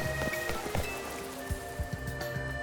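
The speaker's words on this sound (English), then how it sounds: "Oh, and it's raining." Steady rain patters on a surface with scattered distinct droplets in Pokémon Legends: Z-A, alongside soft tonal game music in the background.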